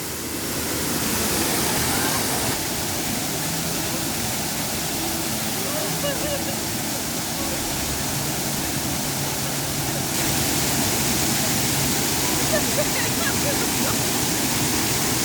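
A steady, loud roar of a cold waterfall at hot springs in Greece, pouring nonstop, with people's voices faintly mixed in beneath the rush.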